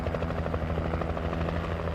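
Helicopter air support in the video game Alan Wake, a steady rotor thrum with rhythmic blade chop and low engine drone, continuous and moderately loud with no talking.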